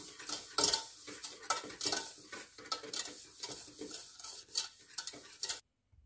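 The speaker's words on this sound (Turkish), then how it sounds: "Ayırdığımız yumurtanın sarısını da içine ekliyoruz. İki malzememizi önce çırpıyoruz." Sugar and egg yolk being whisked together in a pot for a German cake, a rapid, continuous scraping and clinking of a whisk against metal that goes on steadily and then stops abruptly near the end.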